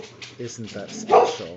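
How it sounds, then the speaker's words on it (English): A purebred boxer barks a few times in the background, partly masked by someone talking close to the microphone. "Yes, that's what I need, my dog, to bark on my podcast."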